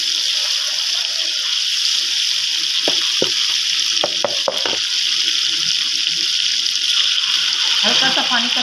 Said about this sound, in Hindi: हल्का सा पानी का छींटा लगाया ताकि टमाटर अच्छी तरह डाल जाए।